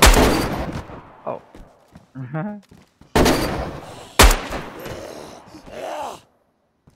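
Gunshots in the video game DayZ on PC, loud sharp cracks, a burst at the start and two close shots later, with a voice groaning and speaking between them.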